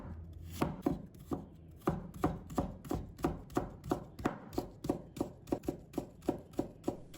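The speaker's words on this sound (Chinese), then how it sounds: "再准备1块生姜，把它切成丝" A knife shreds a piece of fresh ginger on a cutting board in quick, even chops, about three per second, close and crisp with no talking.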